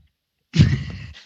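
A single person's sneeze, a short, fairly loud burst of breath and voice lasting under a second, bursting out of a quiet pause with nothing before it.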